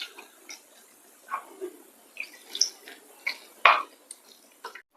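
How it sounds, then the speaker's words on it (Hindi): Water is poured a little at a time into pakora batter as a hand mixes it in a bowl. The sound is a quiet, uneven run of wet squelches, drips and light taps, close by, with no voices. "थोड़ा थोड़ा पानी डालकर पकौड़े के लिए बैटर तैयार कर लेते हैं"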